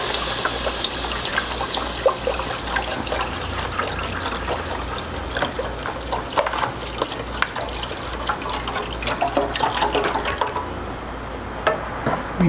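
Full cream milk pouring into a pot on the stove, a steady close liquid stream with splashy trickling and small clinks throughout, no talking.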